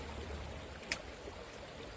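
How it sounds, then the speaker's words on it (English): A cool, clear creek flows softly in the distance, a faint steady wash of moving water with one brief splash partway through. "when you get out here in these cool water creeks and this moving water"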